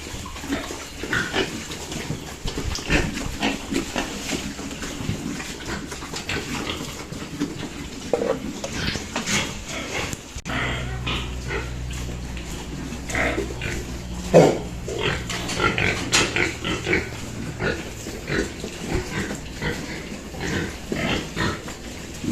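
Pigs grunt and snuffle repeatedly while feeding, with chewing and clattering noises and a low rumbling hum joining partway through.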